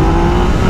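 Yamaha XSR 900 motorcycle engine being revved with the throttle opened by a harbour, a loud, steady, close engine roar that holds through a very brief burst.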